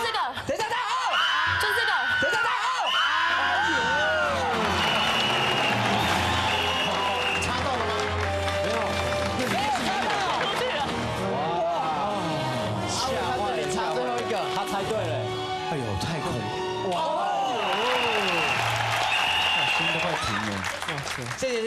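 Studio audience at a TV variety show applauds and cheers, broad clapping mixed with whoops and laughter, running under music and voices that talk throughout.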